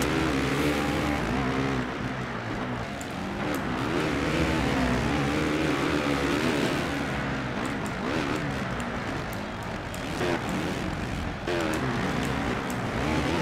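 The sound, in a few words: motocross bike engine revving in MXGP video game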